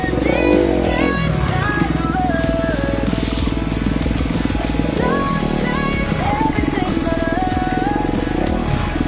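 A Kawasaki KX250F four-stroke dirt bike rides through the woods, its engine revving and rising and falling continuously up close. The throttle blips and the changing load come through as it works along the trail, and no one speaks.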